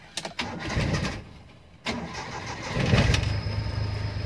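A car engine cranks and catches after a brief pause, then settles into a steady mid-pitched idle, loud and close with no talking.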